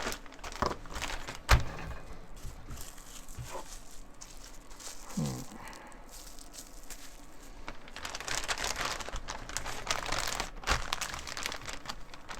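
A large plastic freezer bag is handled nearby, giving intermittent crinkling and rustling bursts with a sharp tap and quieter pauses in between.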